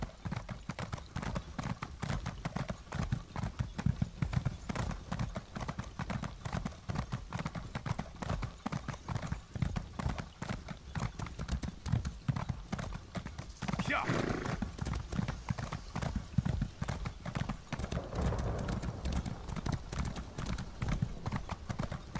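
Steady rhythmic clip-clop of horse hooves in The Elder Scrolls Online continues throughout, with a horse whinnying partway through and voices faintly underneath.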